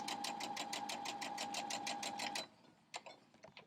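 Sewing machine stitching quilt fabric pieces together, a rapid even chatter of needle strokes for about two seconds before stopping, followed by a few faint handling clicks.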